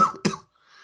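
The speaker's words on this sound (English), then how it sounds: "let's have a little cough" A single short cough lands mid-burst in a tabletop game session, a brief harsh bark right after a moment of talk, then quiet room tone.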